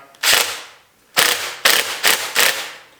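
A nut driver snugs down track bolts during a snowmobile build on an XCR 1000 sled, giving five sharp, loud ratcheting bursts in an uneven rhythm, each a short grinding rasp, close up with no talk.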